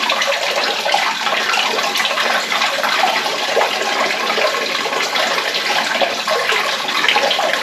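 Coolant pours out of a 1937 Opel engine during engine removal in a steady, loud, gushing rush of liquid that runs continuously and close by, with no voices.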